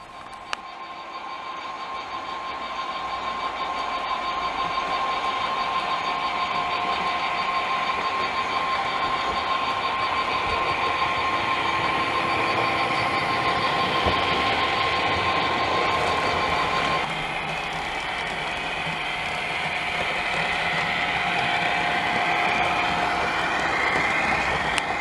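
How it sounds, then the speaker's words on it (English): Model trains running on a model railway layout, a steady rolling rumble with a sustained motor whine that holds throughout, close and moderately loud, without talk. "let's get on and run some trains now"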